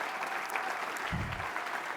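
An audience claps at a U.S. Olympic & Paralympic Hall of Fame induction ceremony, a steady hall-filling patter of many hands at moderate level with no talk over it.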